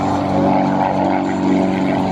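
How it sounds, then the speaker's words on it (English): Biplane flying past at an airshow in Beaufort, South Carolina while doing outside shoulder rolls, a loud continuous propeller and engine drone that swells slightly as it passes, with no talking. "this is a biplane as he goes by with outside shoulder rolls"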